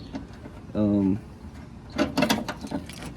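Refrigerant line fittings on a 12k mini split are tightened with a wrench, a short burst of clicking and ratcheting metal followed by scraping and rattling handling noises, close and fairly loud.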